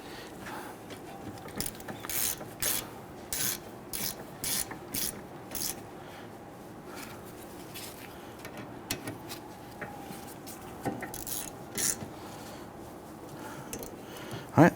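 Mechanical ratcheting from a hand wrench snugging down brake caliper bolts during a rear brake job on a 2010-2019 Ford Taurus, heard as short repeated clicking bursts with pauses between them, close and fairly quiet.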